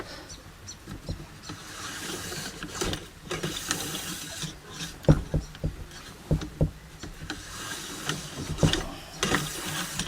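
A cleaning rod with a brush is pushed down through a rifle barrel chambered in .224 Valkyrie, giving irregular scraping, rubbing and clicking strokes close by, with no talking.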